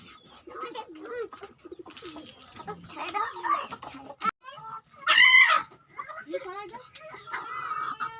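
Hens and chickens being fed cluck and squawk nearby while people talk over them, with one loud, sharp bird call rising briefly in the middle.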